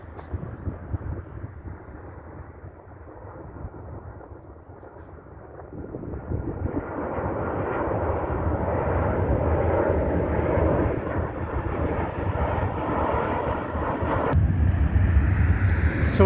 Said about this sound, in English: Here comes another jet in.